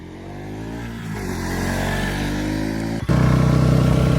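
A Bajaj Pulsar NS200 motorcycle engine with a heavy bass note hums steadily, then rises in pitch as it revs, dips briefly around three seconds and returns to a louder, throbbing drone; close and alone.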